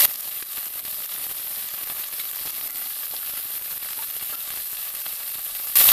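Green beans fry in hot oil for a bean masala curry, giving a steady, dense sizzle that stays even and close throughout with no talking.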